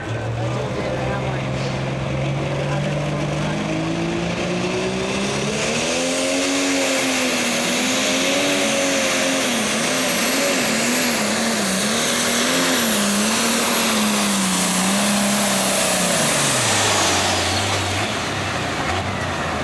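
A John Deere pulling tractor at a 10,000-pound pro stock tractor pull roars loudly, its engine note climbing, wavering under load down the track, then dropping away near the end while a commentator talks over it.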